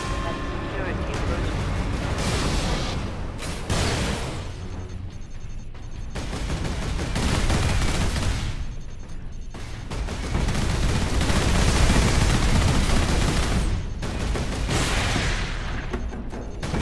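Sustained gunfire pours onto auto turrets in the Space Marine video game on hard difficulty, a dense continuous barrage with brief lulls, loud throughout, with a voice talking over it.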